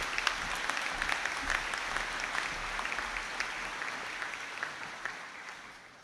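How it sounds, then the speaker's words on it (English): Steady applause from a crowd at a university conferring ceremony, sustained clapping throughout that tapers slightly toward the end. "give them a round of applause"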